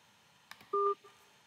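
A phone app built with MIT App Inventor sounds a single short dual-tone dialing beep after a couple of faint taps, clear and isolated in a quiet room.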